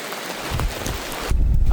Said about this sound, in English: I need to put some rain gear on, because I'm getting soaked here